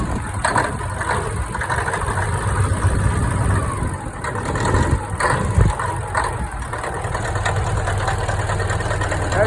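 A 1973 Kenworth truck engine idles outdoors with a steady low rumble and a few light throttle blips, heard fairly close under wind and background noise.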